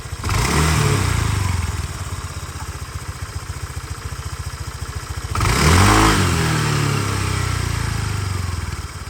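A 2016 Honda PCX 125 scooter engine idles steadily up close, with a brief rev in the middle before settling back to a constant putter.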